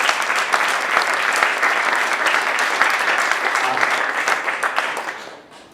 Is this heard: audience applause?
yes